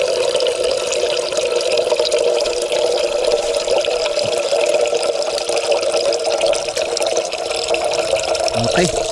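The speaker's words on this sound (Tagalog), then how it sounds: "Lagyan natin ng tubig." Water poured into a pot to boil barako coffee while camping with Boy Scouts, a steady loud splashing pour that runs without a break, with voices faintly mixed in.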